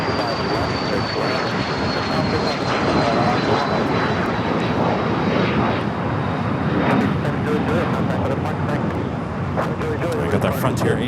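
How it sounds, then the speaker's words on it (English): Frontier Airbus A320 taking off down the runway at Los Angeles International Airport, a steady broad engine roar holding throughout with a faint high whine, loud and continuous, with people talking faintly over it. "We got that Frontier A320 now rolling down at 25 right, heading to Phoenix, Arizona."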